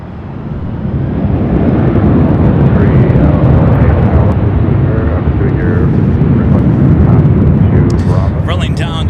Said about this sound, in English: Rolling down to 24 left, Southwest Airlines flight 1290 heading to Denver, and the 737-800.